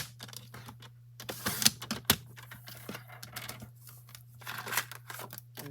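Card stock being trimmed to 4 by 5 1/4 inches for a birthday card, heard as a run of sharp, close cutting clicks and rustles in irregular bursts against a quiet steady hum.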